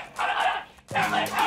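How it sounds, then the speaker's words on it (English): A small dog barks aggressively: two sharp, loud barks close by, separated by a brief pause, with the second bark harsher and more forceful. "he's got a good bark, isn't he?"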